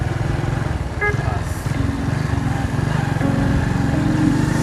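Motorcycle engine revved up in a bikes-versus-water-boat test, a loud steady throbbing engine drone with rising throttle, close and continuous, with faint voices underneath.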